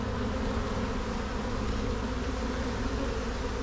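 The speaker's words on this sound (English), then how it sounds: "there's still lots of bees in here" Bees swarm inside a box during a hive removal from a roof, a loud, dense droning buzz close at hand that holds steady, with no speech.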